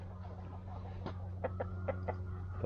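Several short clucks from a rooster, spaced irregularly over a steady low hum, moderately close and fairly quiet.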